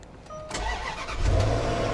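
A used car at a dealer auction cranks and fires right up, settling into a steady close idle with a rising engine rumble.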